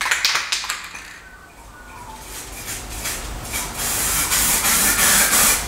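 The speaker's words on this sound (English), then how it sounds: "Make sure that you give the can a good spray before you start applying it" Spray paint can hissing steadily onto a synthetic gun stock, a broad continuous spray that sputters at first and then builds to a fuller, even hiss close by.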